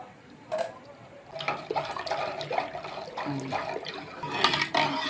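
Boiled milk pours steadily into a dish of cardamom powder, a soft continuous splashing and trickling close by, with no talking.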